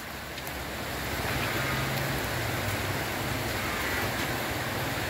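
Steady rain falls outdoors at a cattle farm in Vinh Long, a dense, even hiss of drops that stays at the same loudness for the whole stretch, with no voices.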